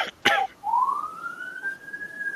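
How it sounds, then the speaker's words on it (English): A single police siren wail rising and sweeping upward, held steady and fairly clear for about two seconds, preceded by a brief cough-like burst. "that is the sound of the police coming to take me away"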